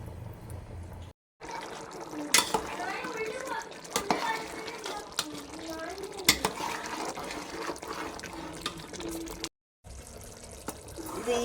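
Rice boiling in a pot of water with lemon juice squeezed in, as part of a chicken biryani, gives a close, steady bubbling and sloshing with occasional stirring clatter, under people talking.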